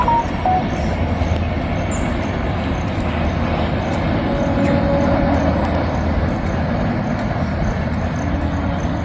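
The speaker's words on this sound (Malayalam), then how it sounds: "ട്രെയിൻ പോയിക്കൊണ്ടിരിക്കുകയാണ്" A train runs past nearby, a steady, loud rumble of wheels and rail clatter that fills all nine seconds, with no voices over it.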